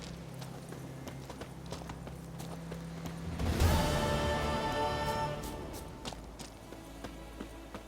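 Horse hooves clip-clop in The Witcher III game, a steady walking beat starting after a brief surge of rushing noise, soft and continuous under faint background ambience.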